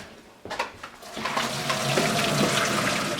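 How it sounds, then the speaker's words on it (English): Cooked shrimp are tipped into a strainer and the water pours off, starting with a sudden splash and then building into a steady close gush of draining water that continues alone to the end. "Let me take my strain over here. I want to drain the shrimp."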